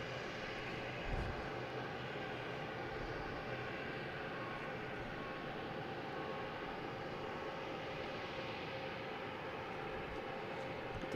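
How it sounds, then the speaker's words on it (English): An American Airlines airliner flies over Boston Logan Airport, its engines a steady, broad roar that holds evenly for the whole stretch at a moderate distance. "it's going to fly over Logan and then hop into the pattern"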